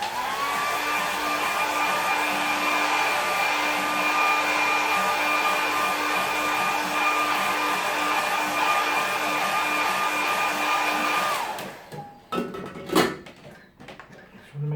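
A hair dryer blows on a watercolour painting of Sutton Park with a loud, steady whirring roar for about eleven seconds, then switches off, leaving a few light clunks and rustles.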